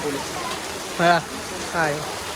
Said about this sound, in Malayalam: മഴയാണ്